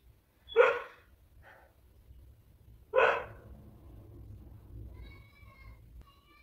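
A dog barks twice, two sharp separate barks a couple of seconds apart, fairly close over a quiet room with faint background hum and soft distant sounds afterward.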